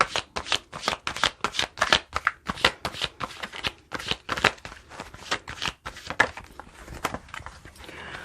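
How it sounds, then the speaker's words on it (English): Close, crisp riffling of oracle cards in quick rhythmic bursts, repeating steadily for several seconds with no talk. "let's draw from the Island Time Wellness Love Oracle and see what comes up"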